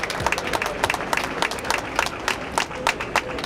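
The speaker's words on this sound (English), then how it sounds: "Let's give all these companies and organizations a big round of applause" An audience claps for the food providers at an evening dinner gathering, with dense, steady applause and scattered individual claps running throughout, a few voices mixed faintly underneath.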